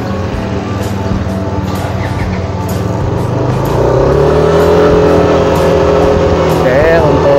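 A new Yamaha motorcycle pulls away from a standstill, the engine drone rising steadily in pitch and growing louder as it speeds up, close by, with people talking over it.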